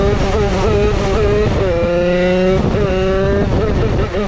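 A DRD 88cc Stage6 Big Racing moped engine revving hard, a loud, buzzy two-stroke whine that climbs and dips through the revs, close up and continuous with no pauses.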